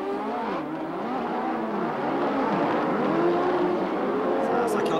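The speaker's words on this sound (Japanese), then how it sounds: "さあセナ、マンセル、この2台が通過していきました" Formula One race cars at the 1987 Belgian Grand Prix scream past with rising and falling engine notes, loud and continuous under excited commentary.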